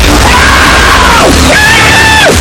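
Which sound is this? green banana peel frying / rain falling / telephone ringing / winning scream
winning scream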